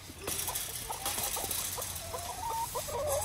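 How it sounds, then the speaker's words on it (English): Backyard chickens and a rooster cluck and make short calls outdoors, soft and fairly close, over a steady background hiss. "Yeah, hi, chickens. Hi, girls. And rooster."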